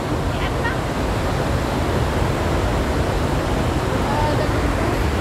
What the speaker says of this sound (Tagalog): Dumadagundong ang tubig.